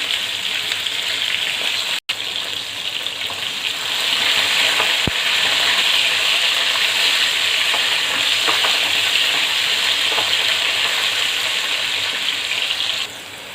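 Onion and dried red chillies fry in a pan, giving a loud, steady sizzle that continues without a break, broken only by a brief sharp click near the start.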